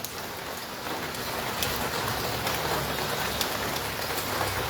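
Steady rain falls on a surface, a dense even patter close by with no voices, unbroken throughout.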